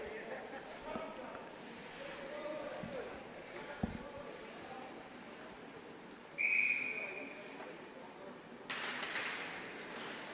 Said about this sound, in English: we've got our first whistle